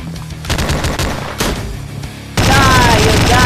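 Rapid machine gun fire in the multiplayer survival game Slendytubbies 3, loud bursts of gunfire with booming impacts and a sustained burst at the end.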